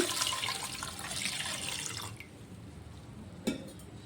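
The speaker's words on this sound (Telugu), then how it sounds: "ఇందులో మరొక రెండు గ్లాసులు వాటర్ పోసుకోవాలి" A steady stream of water splashes into a pot of ground mixture for about two seconds, then stops, followed by a single sharp clink.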